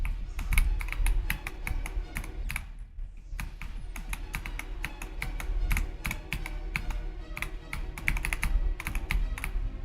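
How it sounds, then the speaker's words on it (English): Computer keyboard keys click rapidly and irregularly in a continuous stream of close, crisp taps over a low background hum. "you need to level up your clicking speed"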